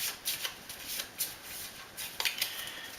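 Zombie dice being shuffled by hand for a zombie dice game, giving a quiet run of soft rattling and clicking bursts over about three seconds, close up and without talk.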